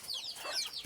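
Brief, faint clucking from free-ranging backyard desi hens, a couple of soft chirpy calls heard at a distance.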